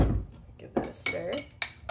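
A spoon stirs hot chocolate in a cup, giving several quick, close clinks and scrapes against the sides in under two seconds, with no voice over them.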